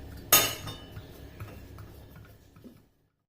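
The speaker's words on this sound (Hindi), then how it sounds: "अब प्रेशर कुकर को बंद कर देना है।" A pressure cooker lid is shut on a pot of paya soup: one sharp metallic clack, then a few soft clinks and taps that fade to silence, with no talk.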